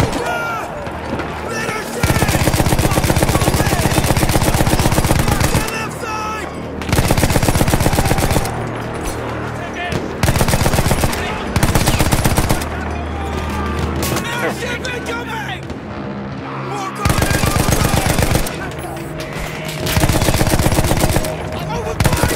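Gunfire in the WWI shooter Battlefield 1, with loud, sustained machine-gun bursts and rifle shots in repeated waves, layered over dense battle noise and constant close-range firing.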